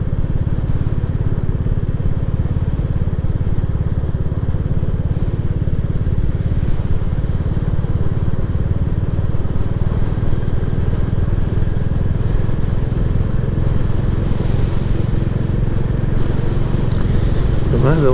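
Royal Enfield Classic 350 motorcycle riding on roads in Northumbria, heard as a loud, continuous, low engine rumble with wind buffeting that lasts throughout.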